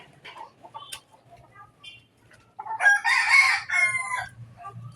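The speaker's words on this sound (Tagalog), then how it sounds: "Sabay-sabay sila nagtitilaok." Several roosters crow together on a farm, their calls overlapping in a loud burst after scattered clucks and softer bird sounds, with a low hum beneath.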